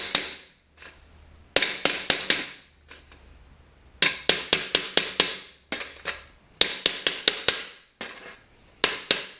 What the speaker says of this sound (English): I don't use my body hammer to hit this because this is hard